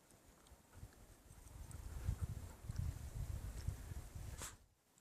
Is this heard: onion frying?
no